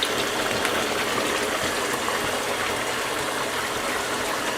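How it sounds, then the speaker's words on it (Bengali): Hot fried tempering (baghar) poured into dal bursts into a loud, continuous sizzling hiss that holds steady for several seconds with no voices. "তো এখন এটা আমরা ডালটার মধ্যে দিয়ে দিচ্ছি।"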